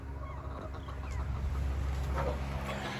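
Chickens cluck and murmur softly over a steady low background hum, with a few faint bird calls scattered throughout.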